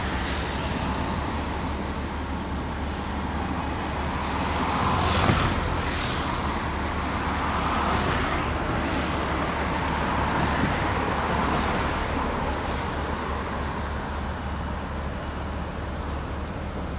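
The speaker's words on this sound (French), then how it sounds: "La noria des camions." Trucks stream past in bulk transport at Port Est, Réunion, a continuous broadband roadway roar with swelling passes around the fifth and eighth seconds, steady and fairly close, no voices.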